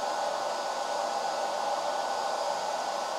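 A hair dryer runs off a Bluetti EB55 portable power station, blowing with a steady, loud, close whooshing whir that holds unchanged throughout, with no voices.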